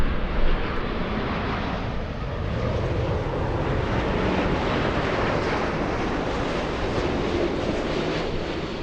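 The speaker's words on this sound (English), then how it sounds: "Japan Airlines 62 flying in from Narita, a 9-hour, 52-minute flight. The aircraft, of course, a 787-9." Japan Airlines Boeing 787-9 arriving at LAX from Narita, a loud, steady, broad jet roar that holds evenly throughout as the airliner passes nearby.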